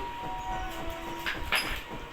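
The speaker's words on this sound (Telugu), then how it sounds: "నేనేం వాయిస్ ఇచ్చినా ట్రైన్ వస్తుంది" A train passes close by, a loud, steady rumble with metallic rail noise and brief squeals throughout, with no speech.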